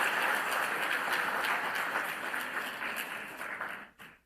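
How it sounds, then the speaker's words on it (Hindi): An audience at a spiritual discourse claps together in a dense, steady wash of applause that stays loud, then thins and fades out near the end. "एक बार जोरदार ढंग से अपने लिए स्वागत में ताली बजाइए"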